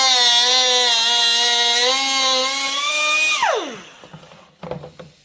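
Dremel rotary tool with a carbide bit held against plastic, a loud high steady whine that slides down sharply as the motor spins down, followed by a few faint clatters.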